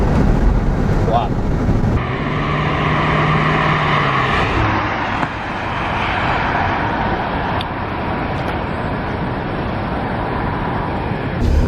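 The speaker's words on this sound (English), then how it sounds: "A very German V8 noise, obviously not an AMG noise" The V8 engine of a 1987 Porsche 928 S4 drones and rises with a deep rumble under road and wind noise, shifting pitch as it accelerates, with a voice briefly over it.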